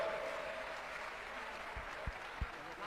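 Crowd applause welcoming a family at a large Jain Chaturmas kalash ceremony in Jabalpur, a broad even patter of clapping heard from a distance, with a few low thumps near the end.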